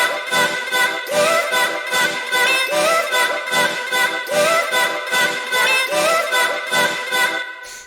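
A dense electronic mix plays steadily, with pulsing synth chords and melodic lines pumping in a regular rhythm at full loudness.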